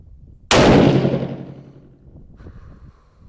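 A single loud, sharp rifle shot fired with a Rise Reliant Pro trigger and a muzzle brake, its crack decaying over about a second, followed by a faint electronic beep.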